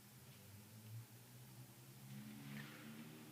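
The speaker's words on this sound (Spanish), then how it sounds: "Escucho un carro" A car passes outside a quiet room, heard as a low engine rumble that builds and fades over a few seconds at moderate distance, with no voices.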